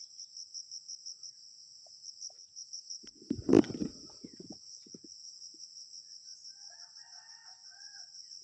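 A rooster crows faintly in the distance near a far-off house. Steady cricket chirping runs throughout, and a single loud thump comes midway.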